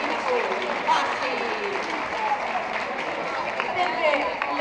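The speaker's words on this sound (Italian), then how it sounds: "Ma sì, applauditevi da soli!" An audience claps at a Bookcity event about Orlando Furioso, a sustained burst of applause heard from nearby with a voice speaking over it.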